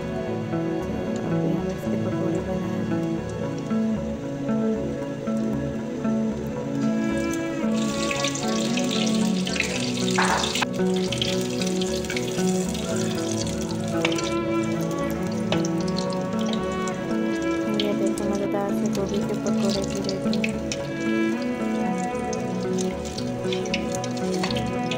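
Cauliflower pakoras in batter fry in hot oil, giving a steady, continuous sizzle and crackle that holds close and even throughout.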